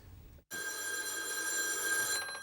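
A telephone bell rings close by in one continuous bright burst after brief background noise, with no talking over it.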